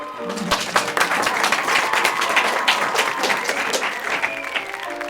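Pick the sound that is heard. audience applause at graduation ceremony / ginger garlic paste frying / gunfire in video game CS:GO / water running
audience applause at graduation ceremony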